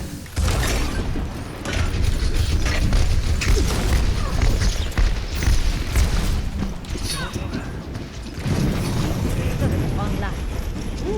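A sentry turret being deployed in the video game Overwatch, with mechanical clanking and whirring amid a busy battle wash of thuds and booms.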